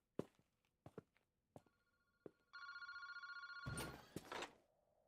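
A phone booth telephone in a video game rings in a rapid, continuous electronic trill for about a second, preceded by several isolated footsteps and followed by a loud clattering thump.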